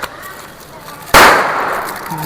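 A single loud pop from a small Diwali firecracker bursts out of quiet background noise, followed by a brief fizzing, crackling tail.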